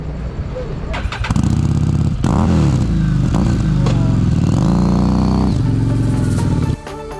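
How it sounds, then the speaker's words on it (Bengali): A Harley-Davidson motorcycle engine catches and settles into a deep, loud, throbbing idle with a few surges in pitch, then cuts back near the end, with a voice talking nearby. "এটা হার্লে ডেভিডসন"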